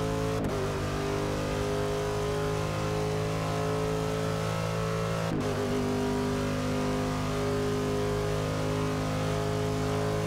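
A race car from the Meguiar's car pack in Forza Motorsport 6 roars steadily at high revs, with a sharp break near the start and another midway as the driver brakes hard and the engine note drops and climbs again.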